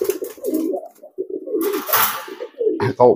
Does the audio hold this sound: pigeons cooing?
yes